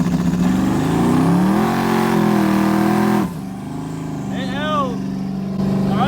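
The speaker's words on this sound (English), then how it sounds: "I'm gonna smash the brakes, hold the 2-step button, and hopefully it holds." A car engine holds at high, steady revs on two-step launch control with the brakes held for a few seconds, then abruptly cuts and drops, idling roughly with a faint voice in the background.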